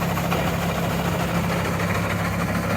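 A Clipper 27 grain cleaner, driven by a 2 horsepower single-phase electric motor, runs alongside a Javelin 16-4 auger on an electric motor, producing a steady, loud, even hum and rattle of machinery with no pauses.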